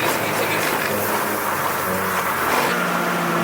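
A Toyota GR Corolla sliding through an autocross course, heard as a loud, continuous engine roar with tire and wind noise and a brief surge near the end, with speech mixed in.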